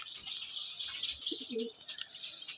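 A breeding pair of pigeons coos softly at close range, a brief low cooing phrase rising over faint chirps and background hiss.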